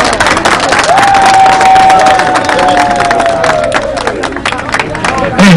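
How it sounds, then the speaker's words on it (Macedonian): A crowd at a political rally in Kočani in April 2014 claps and cheers loudly, a dense roar of applause with a rising whistle over it. "уште еден голем аплауз за премиерката"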